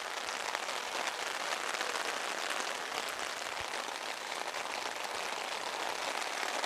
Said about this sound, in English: Has not stopped raining since kickoff, but it's certainly gone through waves in terms of how hard it's coming down